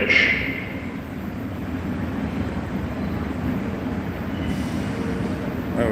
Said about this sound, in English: There is an Uptown Express 4 train to Woodlawn approaching the station